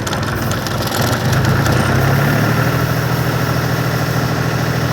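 A mini tractor engine idles steadily up close, its loud low drone and mechanical rattle continuous throughout, with a slight shift in pitch partway as the revs settle; no one speaks.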